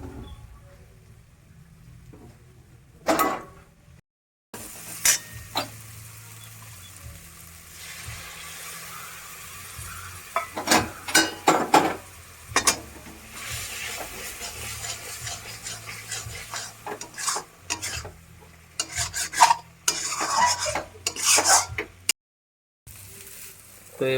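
Kolkata street food stirred in a pan with chickpeas nearby, bursts of scraping and clattering stir strokes over a low sizzle, with brief gaps of near silence between runs.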